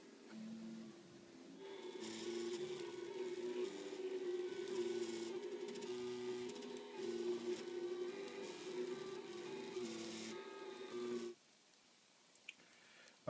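A 3D printer prints trimmer-line nylon, its stepper motors whirring and humming in shifting tonal patterns at a moderate, fairly close level for about ten seconds before stopping, followed by near-silence and a couple of faint clicks.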